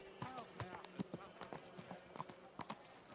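Horse hoofbeats in Kingdom Come: Deliverance 2, a clattering irregular clip-clop of a ridden mount, with voices talking over it.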